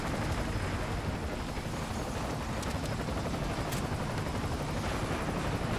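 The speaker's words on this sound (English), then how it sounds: "Are we just going into the helicopter now?" Helicopter in the Call of Duty: Ghosts video game, a steady loud rotor drone with heavy gunfire and explosions blended into a dense, continuous battle din.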